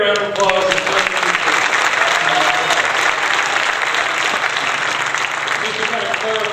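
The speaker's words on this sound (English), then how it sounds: "give everybody a round of applause." A church audience breaks into sustained applause, loud and dense, while a voice briefly talks at the start before the clapping carries on alone.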